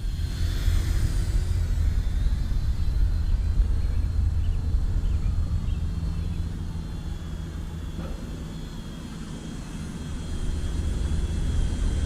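A DEERC D20 mini HD camera drone flies slowly, giving a constant buzzing whir with a heavy low rumble, dipping slightly softer for a few seconds in the middle before swelling back up.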